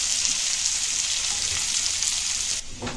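Chopped onions fry for radish bhaji with a loud, steady sizzle close by. The dense hiss holds evenly, then softens slightly near the end with a faint clink.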